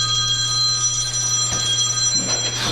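A telephone rings in a tense interrogation-room scene, a steady electronic trill over a constant low electrical hum, continuous and fairly loud with no talk.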